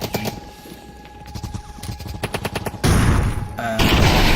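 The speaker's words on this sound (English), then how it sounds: "it's not very advisable to run around with a katana when you have machine guns firing at you" Machine gun fire rattles in the VR shooter Front Defense Heroes, rapid repeated bursts of shots followed by a louder, denser crash of gunfire and explosions, with no speech.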